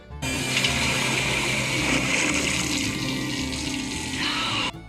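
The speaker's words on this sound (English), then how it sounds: "So now when I turn this valve, we should get showered." Water gushes from a newly installed shower in a converted ambulance camper fitted with a filtered water recirculating system, a loud, steady rushing hiss that starts suddenly after the valve opens and then stops just as sharply.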